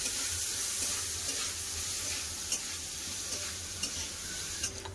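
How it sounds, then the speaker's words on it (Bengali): Potatoes frying in a pan with turmeric and salt give a steady, close sizzle with occasional stirring scrapes, running alone without any talk. "আলু খুব সুন্দর করে ভাজা হয়ে গেছে"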